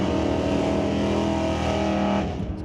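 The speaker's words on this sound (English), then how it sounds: "Greg Marshall in his K-Stock automatic Oldsmobile Cutlass." A K-Stock automatic Oldsmobile Cutlass tears down the drag strip with a loud, steady engine roar that holds at full power and then begins to drop away at the end.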